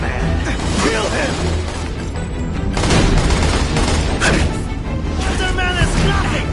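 Gunmen open fire on Spider-Man in The Amazing Spider-Man 2 game, a dense, continuous clatter of shots and mechanical noise under loud shouting voices.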